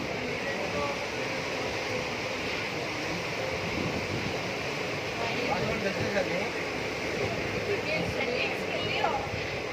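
River water rushing beneath a bridge, heard as a steady, broad wash of flowing water mixed with wind buffeting the microphone, continuous and fairly loud throughout.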